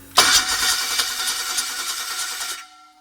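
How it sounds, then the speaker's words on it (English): Flooded engine cranking without catching, a single sustained burst of fast rhythmic starter cranking heard up close that runs about two and a half seconds, then cuts off to near silence. "So now I'm going to try and start the engine."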